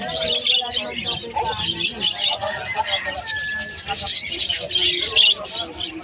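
Frill back pigeons, including a cinnamon frill back, at a bustling pet market in Malabon, with chirps and tweets from many birds over a steady crowd hubbub and nearby talk.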